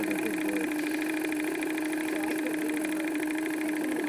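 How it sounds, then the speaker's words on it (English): A small, self-contained steam mill power engine built to run slow, paired with a horizontal boiler, drones steadily up close with a fast mechanical chatter and a constant hum throughout. "It's a power engine that's supposed to run slow."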